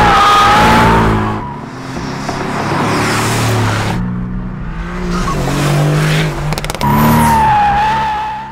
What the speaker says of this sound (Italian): Il sound della GTR è poi garantito dal nuovo scarico in nobile titanio.